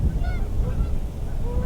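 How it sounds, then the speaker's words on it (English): Geese honk in dry fields beside frozen sloughs, several fairly faint calls rising over a low wind-like background rumble. "I like to see the geese out in the dry fields."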